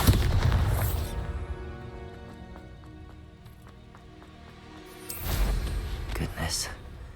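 Bombarda explosion spell in Hogwarts Legacy, a deep booming blast at the start that fades into a low rumble, followed by a second heavy burst with debris and crackle.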